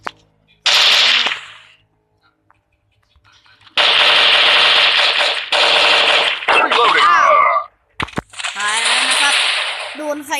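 Bursts of rapid automatic gunfire from a shooting video game, loud and close, arriving in several long volleys separated by brief silences, with a voice briefly audible between them.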